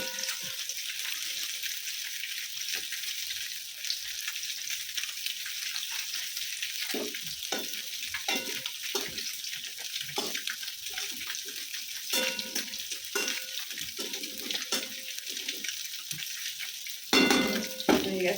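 Greens with bori lentil dumplings fry and get stirred in a pan, a steady soft sizzle broken by repeated scraping and clinking of a spatula against the pot, with a louder clatter near the end.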